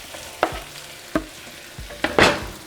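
Green chiles tossed into a frying pan with steak strips and potatoes, stirred with a few distinct scrapes and clatters over a low sizzle, the last stroke longest and loudest.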